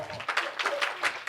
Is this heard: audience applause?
yes